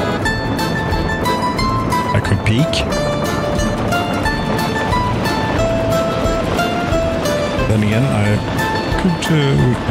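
Train running along a railway beside a river in the Soviet-era city-building game Workers and Resources: Soviet Republic, a steady rumbling rolling drone with faint clanks throughout, heard under a voice talking.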